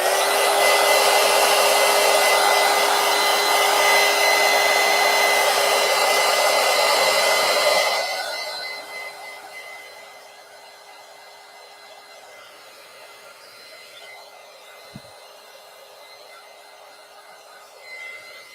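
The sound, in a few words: heat gun drying matte medium on art journal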